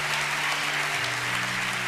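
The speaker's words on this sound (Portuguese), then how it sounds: "Aplauda ao Senhor nesta manhã." Church congregation clapping for the Lord during a Sunday morning worship service, a dense, even patter of many hands under a faint low hum, steady and moderately quiet for the short stretch.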